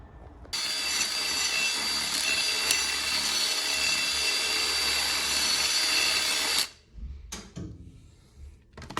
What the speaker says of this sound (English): So I use the stepper bit, drilled it down a little bit, and now I'm gonna use this bit, kind of clean it up.